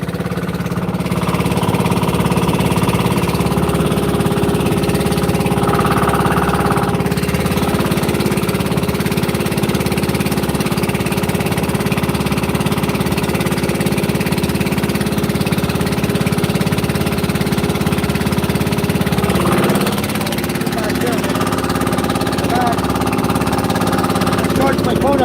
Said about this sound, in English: Hey, sorry about the noise. I'm going over the engine.